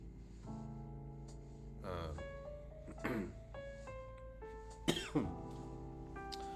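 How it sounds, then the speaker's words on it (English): Several quiet, scattered coughs, a few seconds apart, heard over sustained tonal background music. "Pardon this cough"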